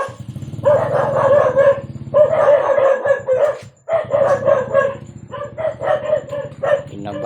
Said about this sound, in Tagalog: Grabe itong mga asong ito.